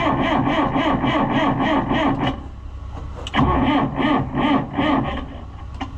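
The engine of a White 700 truck cranks on a freezing day, with a rapid, rhythmic starter chug. It pauses briefly, then cranks again in uneven bursts without catching, loud and close.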